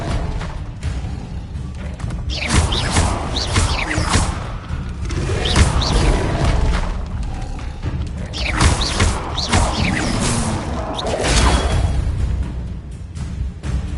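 An Incendio fire spell cast in Hogwarts Legacy gives a loud fiery whoosh with a thudding burst, among other repeated spell blasts and booms from continuous combat.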